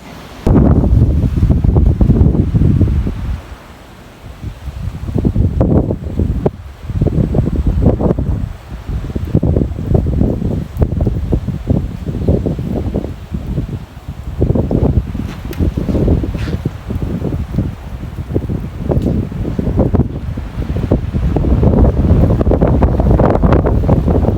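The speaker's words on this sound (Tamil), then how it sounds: "காற்று" Strong, gusty wind roars across a misty mountaintop at Hatale, Sri Lanka, during a snowstorm, buffeting the microphone in loud continuous surges with a brief lull.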